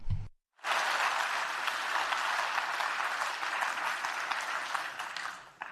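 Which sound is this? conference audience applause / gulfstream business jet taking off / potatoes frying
conference audience applause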